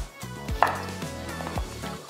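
A knife cuts a Korean zucchini (ehobak) lengthwise on a cutting board, giving a few distinct, close chopping knocks with short pauses between them and no talk.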